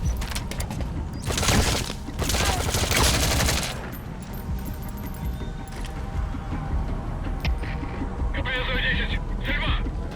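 Unsuppressed gunfire with a worn-out suppressor in Metal Gear Solid 5: The Phantom Pain, loud bursts of shots in the first few seconds followed by quieter game ambience and a voice talking.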